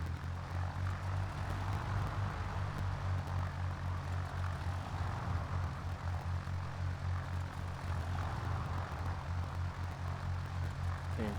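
A propeller aircraft taxiing in a flight simulator game at the airport: a steady, droning engine hum with a low throbbing tone, continuous and even throughout, no talking.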